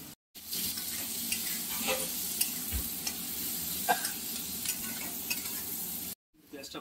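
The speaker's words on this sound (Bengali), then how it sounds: "পেঁয়াজটা ভাজা হয়ে গেছে।" Onion and green chilli fry in oil in a pan for a hilsa fish curry with brinjal, a dense continuous sizzle punctuated by scraping stirs, close and loud, with brief silent breaks at the start and end.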